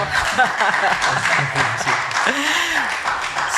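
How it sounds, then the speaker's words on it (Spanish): An audience at a cultural evening featuring a singer applauds after a song, a dense, steady wash of clapping mixed with murmuring voices that holds at an even level for several seconds. "Oh, aplauden, chiquillos."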